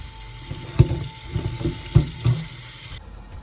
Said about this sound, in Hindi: इसको एक टोकरी में डाल के हम अच्छे तरीके से वॉश कर लेंगे